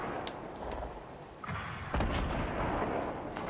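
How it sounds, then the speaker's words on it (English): Gunfire and explosive booms sound in a Fortnite match, several muffled shots and blasts over a busy rumbling game backdrop. "Who's shooting me?"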